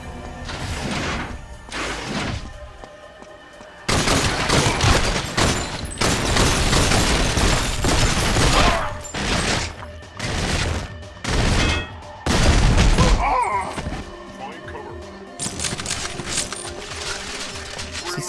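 Rapid bursts of video game gunfire from GoldenEye: Rogue Agent, dense repeated shots in clustered volleys separated by short gaps, loud and close throughout.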